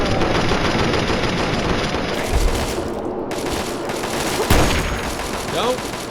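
Rapid automatic gunfire rattles through a Fallout 3 battle in Operation: Anchorage, loud and dense with a couple of heavier booms, while people talk over it.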